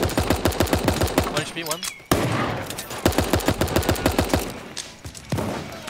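An SMG fires in rapid, steady bursts during a Super Animal Royale match, loud and close, with players talking over the gunfire.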